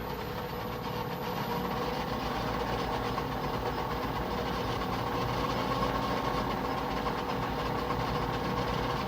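A metal lathe turning a workpiece with an ISCAR carbide insert, a steady, continuous mechanical drone and hum that is moderately loud and even throughout.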